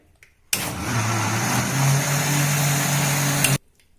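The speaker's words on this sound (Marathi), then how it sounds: "आता सगळं मिश्रण पुन्हा एकदा मिक्सरमध्ये फेटून घेऊया" Electric hand mixer beating cake batter of egg, oil and powdered sugar for a marble cake, a steady close whirring drone that starts abruptly, holds for about three seconds, then cuts off.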